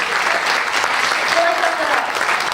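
Dense, continuous applause from a large keynote audience at a summit fills the whole moment, a steady even roar of many hands clapping with no voices standing out.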